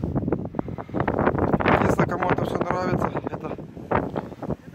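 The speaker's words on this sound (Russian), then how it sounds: "ветер такой сильный, холодно" Strong, cold gusts buffet the microphone in a continuous rumbling roar across deep snow while a person speaks underneath.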